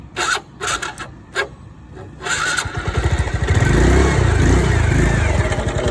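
Honda Wave motorcycle with a smoking engine starting up: a few sharp mechanical clacks and kicks, then the small engine fires and settles into a loud, rapid, close putter that holds steady.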